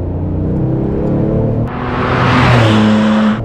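A 2010 Porsche 997 GT2 RS with a manual gearbox pulls hard on a public road, its engine note loud and climbing, briefly dropping at a gear change before surging again into a rising roar.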